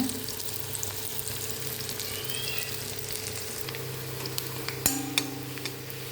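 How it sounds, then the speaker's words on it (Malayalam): Steady sizzle of onions frying in a little coconut oil in a pan, a soft continuous crackle close by with an occasional clink of a utensil, no voices. "നെയ്ച്ചോറിന് ആവശ്യമുള്ള ഉള്ളി ഒന്ന് വറുത്തെടുക്കാം"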